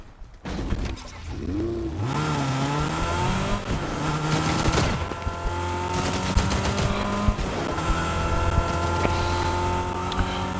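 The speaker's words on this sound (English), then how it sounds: "so we're driving a little deeper into the city" A car in Fortnite revs and accelerates with a rising, whining engine tone that climbs and shifts through gears, tires squealing as it drives deeper into the city, loud and continuous.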